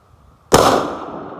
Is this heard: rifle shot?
yes